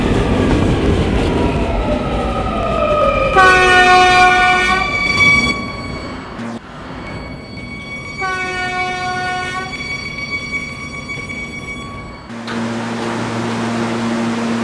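An R220 subway train on the 11 local line rumbles loudly throughout, with two bursts of bright tonal door chimes or horn tones and a sharp shift in rumble near the end.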